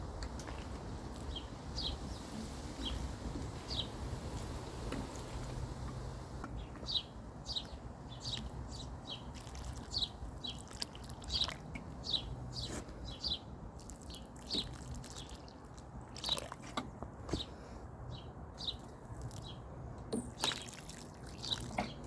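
A watering can pours water into leek planting holes outdoors. The soft, steady wash of water runs through the whole stretch under repeated birdsong chirps, with no talking.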